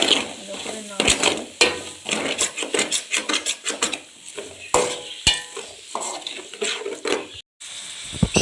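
Onions being stirred with tempering spices in a pan, with repeated scraping and clattering strokes and a faint sizzle underneath, fairly close and busy throughout, with a brief gap near the end.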